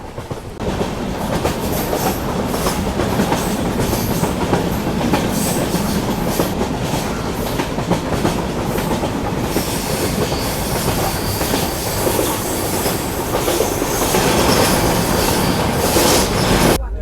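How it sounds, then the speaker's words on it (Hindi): The Sarvodaya Express runs along the rails near Jammu with a loud, continuous rumble, rhythmic clickety-clack from the wheels and occasional wheel squeal. No voices are heard. "शहीद कैप्टन तुषार रेलवे स्टेशन के बाद जम्मू तक ट्रेन खूबसूरत वादियों से गुजरती है।"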